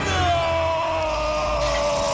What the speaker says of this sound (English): that is like the most typical bad guy let out a scream